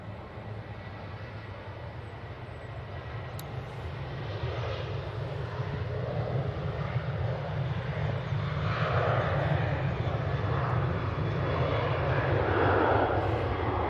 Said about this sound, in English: Now it will be the TUI 737